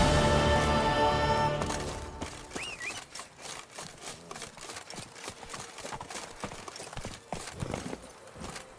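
Horse hooves galloping in The Witcher 3 video game, a fast rhythmic clip-clop of many hoofbeats that starts under a fading musical passage and then runs on alone, close and steady.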